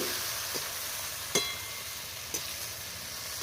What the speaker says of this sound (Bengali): টমেটোটা দেওয়ার পরে খুব বেশিক্ষণ কষানোর দরকার নেই অল্প একটু নেড়ে নিলেই হবে